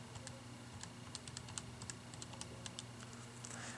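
Quick, light taps on calculator keys punch in numbers in an irregular patter of faint clicks over a low steady hum, with no voices.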